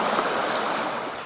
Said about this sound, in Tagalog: Pinasok ng tubig ang mga bahay.